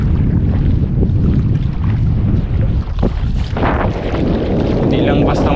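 Strong amihan monsoon wind buffets the microphone at a seashore during shore casting, a steady loud roar with rumbling gusts throughout, while faint voices are heard underneath.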